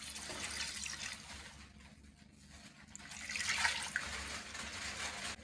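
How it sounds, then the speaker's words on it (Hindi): Water is poured into a pot of beef Shinwari karahi with oil in it, a steady splashing, gurgling stream that eases off midway and then swells louder again, heard alone without voices. "अब इसमें पानी डाल लेंगे।"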